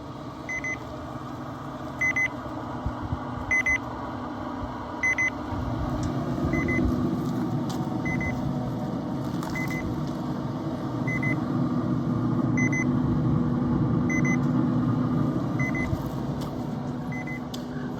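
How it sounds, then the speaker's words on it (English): A meat thermometer's temperature alarm on a Camp Chef Woodwind pellet smoker beeps in a steady repeating pattern of short high tones, clear and regular, over a constant low hum and fan-like background noise. "the alarm for our internal meat temperature has just gone off at 130 degrees"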